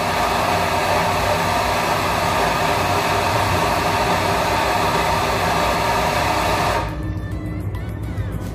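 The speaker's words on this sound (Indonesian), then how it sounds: "Oke, saya langsung saja giling untuk kopinya." A coffee grinder grinding beans for espresso, next to a La Cimbali M23 espresso machine: a steady, loud, whirring grind runs without a break, then cuts off sharply near the end, leaving softer background noise.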